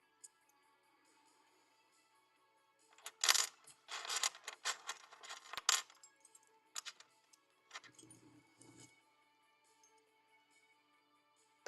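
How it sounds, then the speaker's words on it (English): Skeleton keys and barrel keys rattle and clink as they are handled, bursts of metallic jangling in the middle stretch with a few scattered clicks afterward, fairly close and otherwise quiet. "Couple barrel keys there, few skeleton keys."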